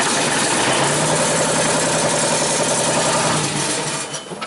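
A Genie boom lift's generator engine idles steadily and loudly with a constant mechanical drone and fine vibration, easing slightly toward the end.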